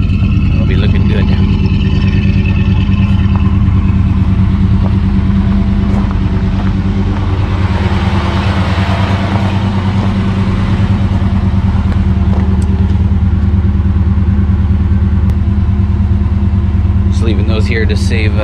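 A vehicle engine drones loud and steady while driving, a constant low rumble with road noise filling the whole stretch, someone talking over it.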